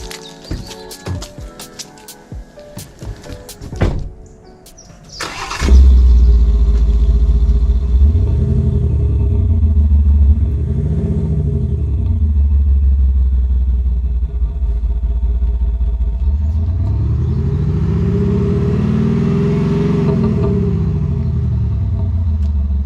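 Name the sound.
Land Rover Defender engine revving with upgraded exhaust system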